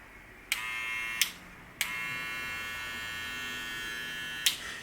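A Wahl Cordless Senior hair clipper buzzes steadily at close range, switched on and off with a few sharp clicks, its motor hum holding even between them.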